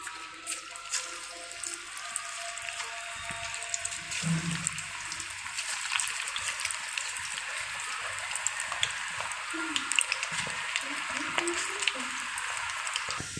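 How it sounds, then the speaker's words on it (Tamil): Plantain pakora batter dropped into hot oil, giving a steady bubbling hiss of deep frying that rises after a few seconds and continues with small pops and crackles, moderately quiet and close. "எண்ணெய் சூடாயிடுச்சு நம்ம மாவு இப்போ போட்டுடலாம்"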